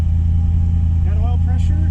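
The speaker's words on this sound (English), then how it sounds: "The alternator is whining. That's what that big whine in the front is." A vintage car engine idling steadily up close, its alternator giving off a whine, with a voice speaking over the running engine.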